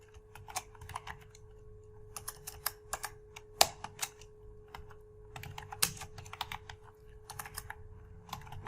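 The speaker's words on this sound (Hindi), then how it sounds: "मैं यहाँ पे टाइप कर लेता हूँ इसे" Keys clatter on a computer keyboard during spreadsheet work, with soft, close taps arriving in quick bursts and short pauses over a faint steady hum.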